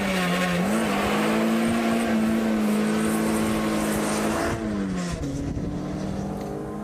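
A car on a test track fitted with performance sports tyres, its engine droning loud and close with a steady rising note, then a sharp drop and rev change near the end, with faint tyre noise underneath.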